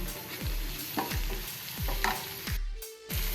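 Spices stirred into vegetables frying in a pan while making broccoli bhaji, with a steady sizzle and repeated scraping strokes of a spoon at a regular rhythm, close and fairly loud, no talking.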